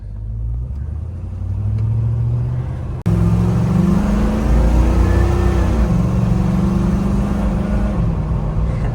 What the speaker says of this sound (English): I love hearing that V8 grumble.